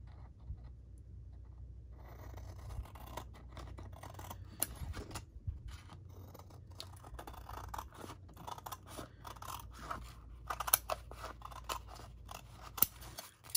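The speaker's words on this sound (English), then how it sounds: "I'm gonna use scissors to trim it this time" Scissors trim paper for a junk journal papercraft project, with repeated close snips and soft scraping slicing strokes in an irregular rhythm over a low steady background hum, with no talking.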